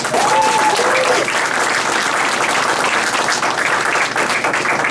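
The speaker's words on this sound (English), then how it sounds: "Please give them a round of applause." Dense, loud applause from an audience at an election night speech fills the room steadily and evenly from start to finish, with a brief faint whistle or cheer near the beginning.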